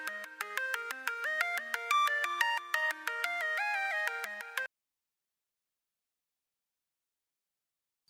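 Steady electronic phone ringtone chiming in a repeating melodic pattern for about four and a half seconds, then cutting off into silence as the call connects.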